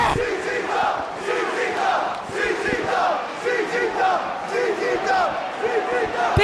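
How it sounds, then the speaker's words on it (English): A sold-out crowd at the CZW Arena roars and chants at a wrestling match, loud rhythmic crowd chanting that surges and dips in waves, with a commentator's voice shouting over parts of it. "This sold-out crowd at the CZW Arena are on their feet and they're going nuts!"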